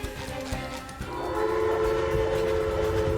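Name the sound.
train in the video game SpongeBob SquarePants: The Cosmic Shake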